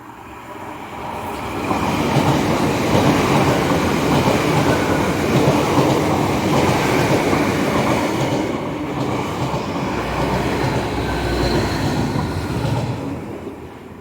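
A slow train crawls past the station at Starcross, likely a service bound for Penzance, its loud, steady rumble and wheel clatter filling the whole stretch before easing slightly near the end.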